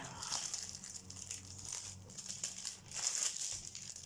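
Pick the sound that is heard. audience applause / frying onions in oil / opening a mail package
opening a mail package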